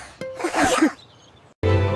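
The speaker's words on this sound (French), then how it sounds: "Les éternuements les plus stupides de tous les temps" A single close, loud sneeze in a children's nursery-rhyme song, a sharp burst followed by a brief lull and then a sustained tone, with no talking.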